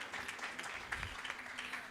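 Brief, faint applause from an audience at the end of a talk at a medical education conference, a soft patter of clapping lasting about two seconds.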